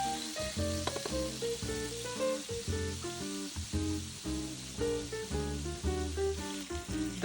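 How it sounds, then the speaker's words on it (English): Salisbury steak patties sizzle and crackle in a hot pan with a steady, soft frying hiss under prominent rhythmic background music. "we're now going to flip our steak patties and let those continue to cook for another 4 to 5 minutes"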